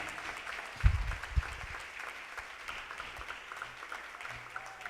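A church congregation gives sustained applause during a Spanish-language sermon, a soft, dense wash of many hands clapping at a distance, steady throughout, with a couple of low thumps early on.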